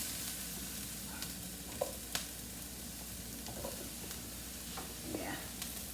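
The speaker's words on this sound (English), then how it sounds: "that's the sizzle we want to hear" Eggplant and other vegetables sizzle steadily in a hot pan while shakshuka is cooked, a constant frying hiss broken by a few sharp clinks and stirring sounds, close and without talk.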